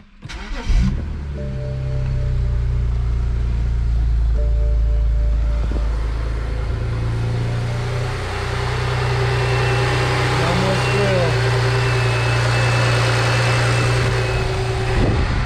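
A BMW 335i is cranked and settles into a steady idle after serpentine belt repair, a loud, even engine drone with no belt squeal, with a brief dip midway.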